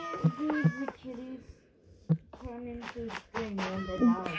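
Cats meowing in a Minecraft-style block-building game, several distinct meows in quick succession early and again near the end, mixed with a voice talking.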